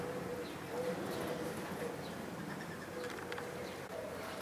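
Pigeons give soft, faint cooing calls in the background of an outdoor spot used for air-rifle pest control, mixed with light ambient noise and a few distant chirps.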